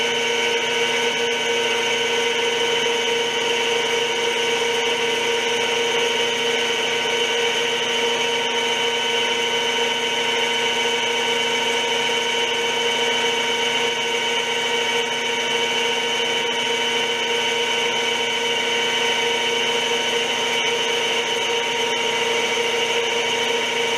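An Eureka continuous relieving tool for gear cutting spins on a machine, giving a steady, even mechanical whine and hum that holds without change throughout, close and moderately loud.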